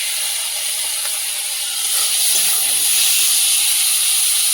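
Potatoes tip into hot spiced oil in a pan for a Bengali bhetki fish curry, setting off a steady, close hiss of sizzling that swells and holds strong throughout, with no talking.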